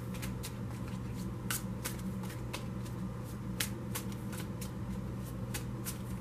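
Tarot cards are shuffled in quick, crisp riffles repeated several times, close up over a steady low hum, with no talking.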